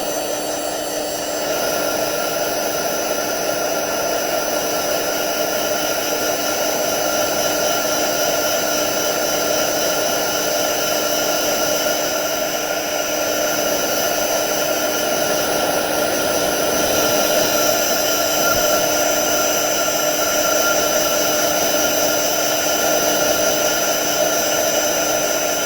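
A hair dryer blows steadily and loudly at close range over a glued napkin on a rock, a continuous whirring roar with a high whine that holds even for about 25 seconds, with no talking.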